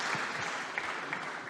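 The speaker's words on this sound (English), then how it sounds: "Let's give her a round of applause so far." Steady applause from a conference audience at a scientific talk on IL11 signalling, soft and continuous clapping heard at a distance for a brief moment.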